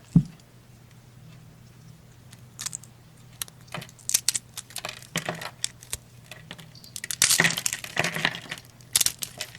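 Bar of soap crumbling and shattering as it is touched, a series of dry crackling, crunching and clinking bursts that grow denser toward the end, close and fairly quiet with no talking.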